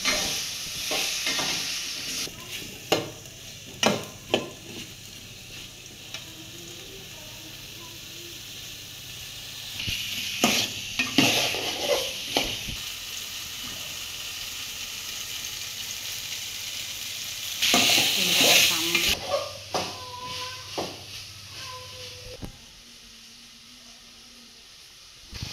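Cut potatoes are stirred and fried with spices in a pan, with bursts of sizzling and scraping between quieter stretches, some faint background voices and clatter.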